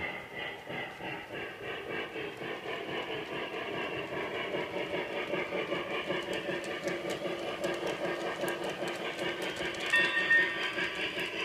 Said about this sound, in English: I'm going to start an engine. I'm going to set it to slow speed, going across the sensor track.